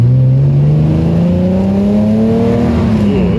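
A Porsche 997.2 GT3 RS engine revs up loudly and steadily, its pitch climbing through a smooth, throaty growl, close and constant throughout.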